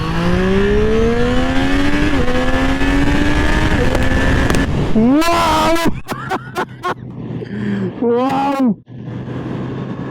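A superbike revs up through the gears, its rising engine pitch stepping up with each shift, then easing off into short blips and idling while a voice talks over the later part.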